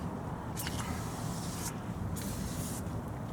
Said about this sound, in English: I'm just going to spray some of this